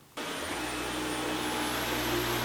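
A Dyson V11 Absolute cordless vacuum starts up and runs over carpet, a loud steady rushing whoosh with a constant low hum, close by and without speech.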